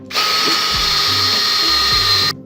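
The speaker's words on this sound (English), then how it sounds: "Alright, let's drill." Power drill boring into a handmade ring, a loud steady whine held for about two seconds with a clean start and stop, heard alone.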